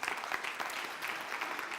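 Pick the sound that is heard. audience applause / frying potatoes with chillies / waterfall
audience applause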